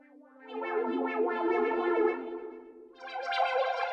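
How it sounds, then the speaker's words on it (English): Synth tone from the Imaginando FRMS app with reverb applied, a sustained buzzy harmonic note that swells, dips and then comes back in, washed with echo and spacious tail, no voices. "then I'm going to add some reverb down here"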